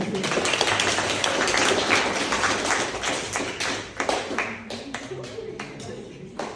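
An audience at a chapter house presentation claps in a sustained round of applause, loud and close at first, then thinning to scattered claps as it fades out.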